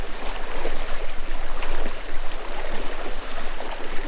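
Fast cold river water surging past at close range near Hopland, California, a dense, unbroken rushing flow with slight gurgling swells and no talking.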